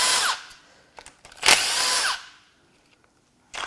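Power tool bursts while unbolting parts from a Ford 7.3L Godzilla V8 engine during a teardown: a short whir, a pause with small clicks, then a loud sustained drill-like run of about a second, quiet, and a brief final burst.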